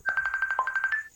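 A phone ringtone for an incoming call trills in a rapid, evenly pulsed electronic pattern for about a second, close and clear, with no speech over it.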